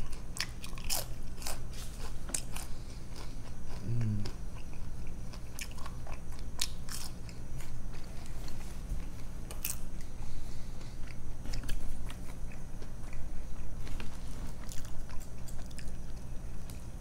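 Someone eats restaurant fries close to the mic, with repeated crunchy bites and wet chewing scattered over a quiet room hum, no talking.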